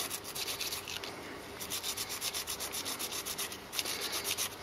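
A scourer scrubs the grooves of homemade steel stepped milling clamps in a quick, steady back-and-forth rhythm, a close gritty rasping with no talk.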